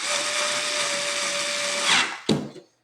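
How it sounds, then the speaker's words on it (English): A power screwdriver tightening screws in a Dell Inspiron desktop computer, a steady close whine for about two seconds that speeds up, then stops with a short clunk. "we'll just go ahead and tighten these screws"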